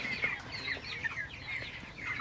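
Broiler chickens in a farm shed cluck softly and steadily, with overlapping chirpy calls and murmurs from many birds at a moderate distance and no talking.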